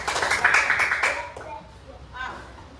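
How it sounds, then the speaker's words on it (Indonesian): Pupils in an Indonesian classroom clap together in a short burst of quick, rhythmic claps that fades out, with children's voices and chatter heard around it. "Tepuk tangan dulu."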